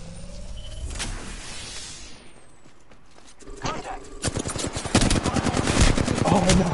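Rapid automatic gunfire in an Apex Legends firefight, a dense run of sharp shots building in the second half after a quieter stretch, with voices talking over the action.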